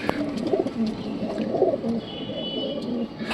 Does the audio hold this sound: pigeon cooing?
yes